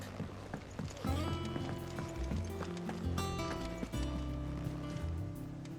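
Horse hooves thud in the Final Fantasy XVI video game, a quick rhythmic gallop close by, mixed with background music and ambience.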